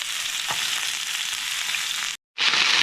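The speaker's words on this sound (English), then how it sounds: "I'm going to add some onion to the skillet" Onion frying in oil in a skillet over medium-high heat, with a loud steady hiss that breaks off briefly near the end and then resumes.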